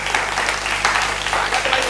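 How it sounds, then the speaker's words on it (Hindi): Audience applause at a Hindi kavi sammelan poetry recital, a steady dense wash of clapping at moderate level with a faint hum beneath and no gaps. "एक बार तालियां बजाकर मुझे आदेशित कर दें"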